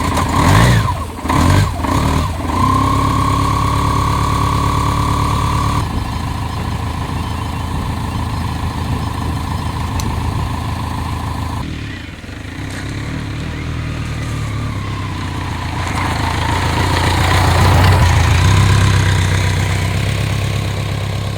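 A motorcycle engine idles and runs steadily during a ride through sparse ranch land in North America, a loud continuous drone with a few brief bumps at the start and a slight swell near the end.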